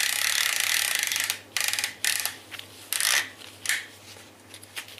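Seat belt retractor in a car being rewound with a screwdriver to tension its spring, giving several sharp ratcheting click bursts separated by short pauses, close up and alone.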